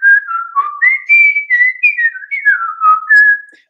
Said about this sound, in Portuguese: com o meu celular, eu gravo um assobio